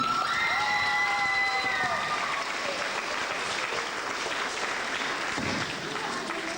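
Audience applauding at a 2003 reporting concert, heard from an old cassette: dense, steady clapping fills the hall throughout, mixed with cheering and children's shouts, with a few voices and tonal sounds showing above it.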